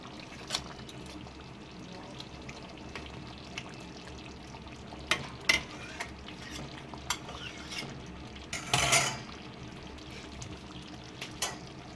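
A spoon stirring Kashmiri dum aloo in a pan after kasuri methi goes in, soft scraping and gentle sizzling at low volume, with a few sharper clinks of utensil against the pot.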